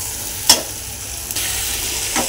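Masala fries in oil in a pan, a loud even sizzle with a few sharp scrapes from stirring spaced through it.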